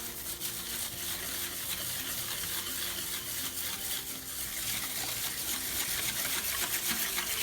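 A spoon stirs pickle brine with lemon salt in a pot, a steady close-up swishing and light clinking that runs continuously without pause.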